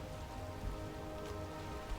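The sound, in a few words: storm rain in Valheim video game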